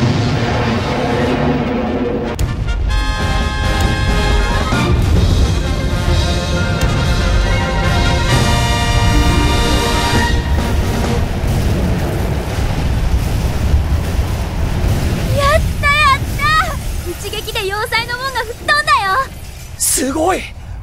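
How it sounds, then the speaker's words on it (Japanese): A moonlight cannon fires in a drama CD sound effect, a loud, sustained roaring blast with rumbling wind-like noise and ringing tones. Voices speak over the tail end. "月光砲発射！"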